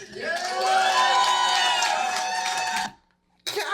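A comedy show crowd cheers and whoops loudly with clapping mixed in, then cuts out abruptly to near silence before the noise briefly returns.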